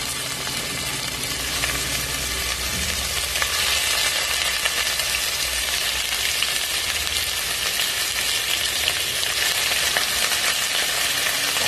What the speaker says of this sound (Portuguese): panela quente, azeite de oliva, a gente vem com o nosso peito de frango.